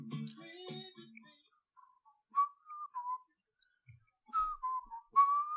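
Someone whistles a song melody during a blind test, a few wavering phrases with pauses between them. A brief burst of voices comes at the start.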